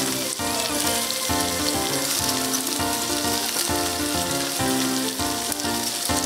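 Curry leaves, chopped mint and coriander sauté in a hot pan while cooking Jaffna-style mutton biryani, giving a loud, continuous sizzling hiss that stays steady throughout with no voices.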